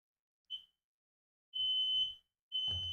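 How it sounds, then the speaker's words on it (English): A fire alarm under inspection sounds sharp, piercing electronic beeps: one short chirp, then two longer sustained tones with pauses between, loud and alone against quiet with faint low rumbles. "I'm going to continue to stream while they do the fire alarm inspection behind me."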